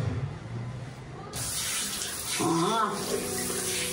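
Water runs steadily from a tap at an office workplace, a broad continuous rush that grows louder and fuller partway through, with faint background activity and no talk.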